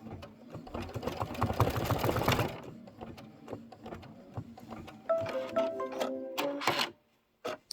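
A Kimberbell embroidery machine stitches an X placement line for a boot buckle, its steady mechanical whir and needle rattle loud at first, then lighter with a few brief tones and clicks near the end; no talking.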